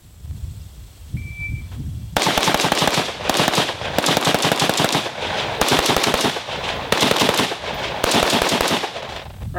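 Rifle shots during a shooting drill crack out in rapid, closely spaced strings of several bursts with short pauses between them, loud and sharp after a quiet lead-in.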